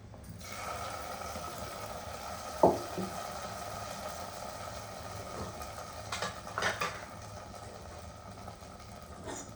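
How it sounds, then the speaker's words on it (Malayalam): Fried onions being added to a jackfruit curry and stirred in the pot: one sharp metal clink, then a few soft scrapes and clatters later, all faint over a steady low hum. "അങ്ങനെ നമ്മുടെ ഉള്ളി മൂപ്പിച്ച് ഒക്കെ കൂട്ടി കൊടുക്കാം."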